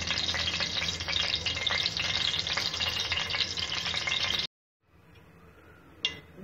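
Cooking oil sizzles loudly and steadily in a saucepan on the stove for a few seconds, then cuts off abruptly, leaving faint background noise and a brief metallic clink near the end.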